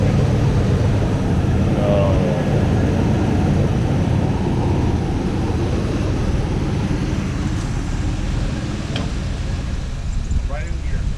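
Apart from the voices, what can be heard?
Chevy C10 truck engine running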